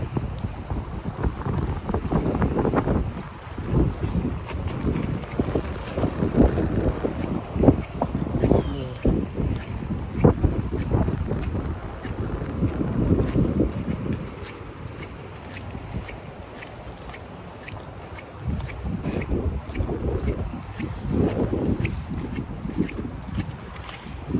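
Strong wind buffets the microphone in steady roaring gusts at a fishing spot in Saipan, with water sloshing and faint voices underneath.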